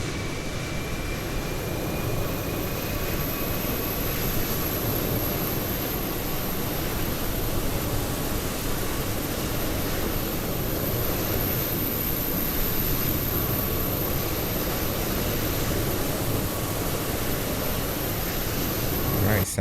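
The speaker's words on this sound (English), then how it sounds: "sounds like the APU's online to me" Steady, even roar of an aircraft APU running on an Air France airliner in a flight simulator, a continuous broadband hum with a faint high whine that holds unchanged throughout.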